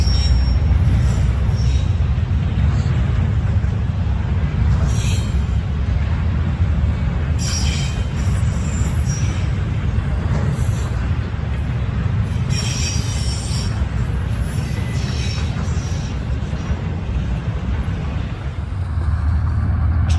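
An eastbound CSX intermodal freight train rolls past with long, high-pitched wheel squeal over a steady rumble of cars on the rails.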